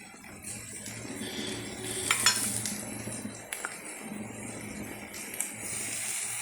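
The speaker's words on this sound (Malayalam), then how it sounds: "ഞാൻ അതിനകത്ത് ഇനി ഒരുവിധമായിട്ടുണ്ട് മീൻ കഷ്ണമൊക്കെ ഇട്ട് കൊടുക്കാം." Fish pieces for a curry sizzle in a hot pan while being stirred, with continuous frying hiss, a few clinks of utensil against the pot, and a louder burst of activity partway through, no talking.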